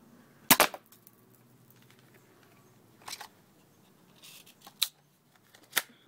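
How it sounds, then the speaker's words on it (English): A cheap airsoft spring pistol fires a jammed load of BBs at once, shotgun-style, giving a sharp close crack followed by a few lighter clicks and snaps from handling the gun. "I just practically shot every BB in my magazine out"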